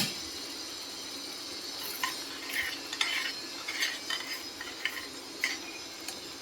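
A spoon stirs mango gojju in a pot after jaggery and salt go in, giving light repeated scraping and clinks over a steady simmering hiss, close and fairly quiet with no talk.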